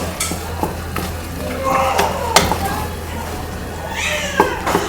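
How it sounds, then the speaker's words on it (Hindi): A spoon scrapes and stirs through a pot of saag on low heat in a steady back-and-forth, with a faint background hum and occasional clinks. "आप ज़रूर हल्की आंच पे इसको इस तरह हिलाते भी रहें"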